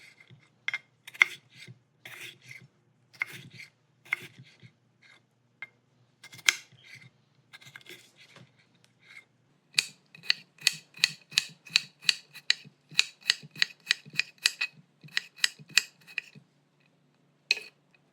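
A knife finely chops cucumber on a board for a lentil and vegetable salad. The crisp close strokes come in uneven bursts at first, then settle into a fast, steady run of regular cuts near the end, with no talk.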